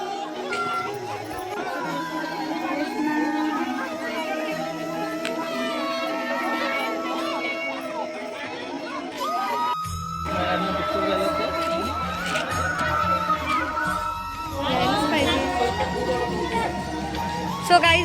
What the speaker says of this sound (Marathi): गर्दी खूप जास्त आहे, खूपच जास्त गर्दी आहे.